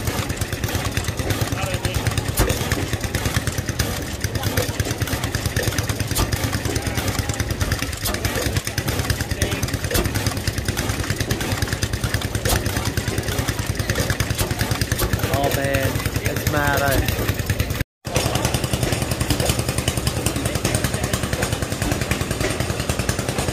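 A small diesel engine runs steadily at a steam and traction rally, a continuous loud mechanical drone with rapid knocking pulses, with people talking over it.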